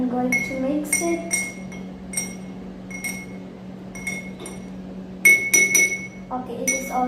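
A spoon stirs colored water in a drinking glass, giving a run of bright clinks and taps against the glass, irregular and close, with a steady low hum underneath.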